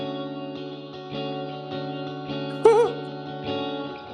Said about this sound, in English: the first thing that I want to add is a big spring reverb to simulate the spring reverb of the amp